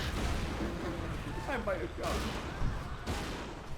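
Grenade explosions and blasts in the video game Resident Evil 6, thrown by a construction worker, with several heavy bursts and whooshing debris spread over a few seconds amid dense game noise.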